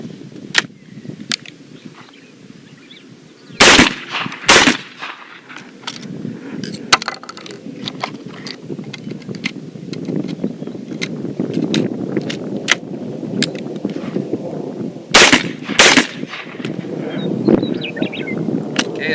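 Cimarron double barrel shotgun firing outdoors, several sharp loud blasts spaced apart, two closely paired near the start and another pair later, amid wind and handling noise.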